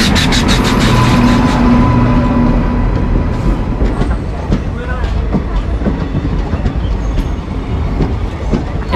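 The 13141 Teesta Torsha Express rolls into a platform, a loud rumbling roar with clattering wheels, screeching brake tones at first, then heavy clanks and thumps as it slows, all close by.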